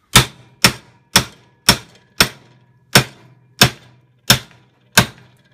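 Hammer pounding a weld bead laid with a Harbor Freight 90 amp welder modified to run DC: nine sharp, close metallic strikes at an uneven pace, each ringing briefly before fading, with no talking.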